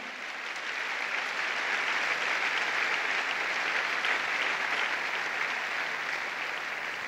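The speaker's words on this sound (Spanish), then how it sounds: "Si va a aplaudir, aplaudirle al Señor." A congregation claps during a Saturday church service, producing a continuous, moderately loud wash of many hands that rises quickly and stays even to the end, with no voices on top.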